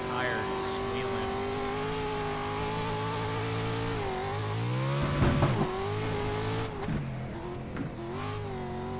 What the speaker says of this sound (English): I could hear that fucking tire squealing